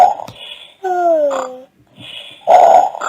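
Cartoon pigs snoring on a sofa, several loud snorting snores with a whistling, tonal breath between them, close and clear with no talk.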